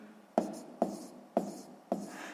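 A pen writes numbers on paper in a math exercise, four distinct scratchy strokes spaced about half a second apart, close and quiet against near silence.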